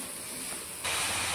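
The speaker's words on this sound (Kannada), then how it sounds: "ಆನಿಯನ್, ಚಿಲ್ಲಿ, ಜಿಂಜರ್, ಹಸಿ ಸ್ಮೆಲ್ಲು ಹೋಗೋ ತನಕ ಹುರ್ಕೊಳ್ಬೇಕು" Onion, chilli and ginger fry in a pan for chicken green masala, a close steady hissing sizzle that turns suddenly louder and brighter partway through.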